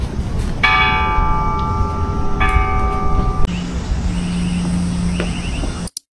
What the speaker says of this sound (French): Je vais aller sonner la petite cloche.